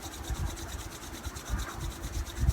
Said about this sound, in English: start to rub the palms pretty vigorously